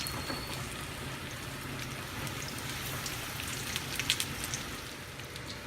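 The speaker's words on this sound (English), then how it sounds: "I'm going to pan fry it today. I've already got my oil heated up." Chicken cordon bleu pan fries in heated oil, giving a steady, fine, close sizzle with crackles throughout, fairly faint and with no voices.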